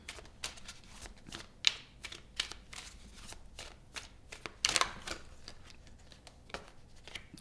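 Tarot cards shuffled by hand in a series of quick riffling bursts and soft flutters, a few sharper snaps standing out, close and fairly quiet with no talk.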